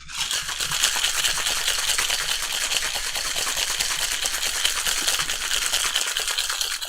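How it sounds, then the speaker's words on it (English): A cocktail with egg white is shaken hard over ice in a shaker, giving a continuous, fast rattling of ice against the tin that stays loud and close throughout. "We're just going to shake it over ice."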